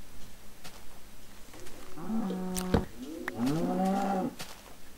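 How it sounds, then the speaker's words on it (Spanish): A cow in a Minecraft mod video game gives two drawn-out, close moos in quick succession, with a sharp hit between them and no speech. "Ahora mando una espada y mataré a la vaca"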